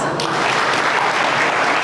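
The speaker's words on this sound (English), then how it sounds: "Let's get a lot of claps." Audience at a celebration of life breaks into steady, dense clapping that fills the room, loud and continuous throughout with a faint voice underneath.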